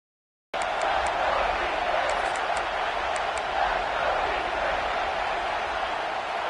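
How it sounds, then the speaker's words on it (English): A stadium crowd in the College Football 26 video game during a Rose Bowl playoff between Georgia and Ohio State, a dense, steady roar of cheering that begins abruptly and holds loud throughout, with no talking. "Third down, and the crowd really getting into it."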